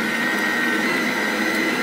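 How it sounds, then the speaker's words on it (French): An electric stand mixer with its whisk attachment runs steadily, beating génoise batter warmed to 40 degrees; a continuous, close whirring drone with no pauses. "Je vais mettre mon fouet et je vais mettre en route tout ça."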